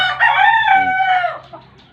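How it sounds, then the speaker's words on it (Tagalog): A rooster gives a single loud, close crow with gamecocks clucking around it while being fed, fading out at the end. "papatuka po ako ng manok na panabong"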